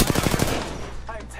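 Rapid automatic gunfire from a video game sounds in a quick, loud burst of shots, then fades into echoing decay with faint game sounds.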